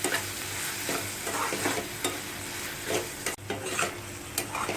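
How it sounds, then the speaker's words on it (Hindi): Momo chutney ingredients roast in a hot pan with soy sauce and salt, giving a constant sizzling hiss marked by regular scraping strokes of a spatula. "इसे भी हम करीबन 1 मिनट तक इसे भून लेते हैं"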